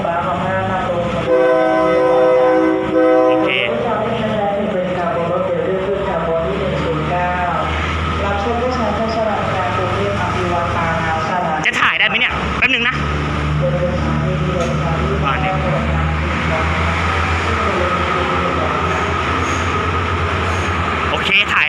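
A Thai railway train rolls past the station with a loud rumble and clatter, a horn sounding early on, while someone talks over the passing cars.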